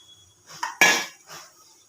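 Cauliflower going into a wok with water for a cauliflower roast: a short metallic clatter and a louder knock against the wok, then a brief softer rustle, up close and with no talk.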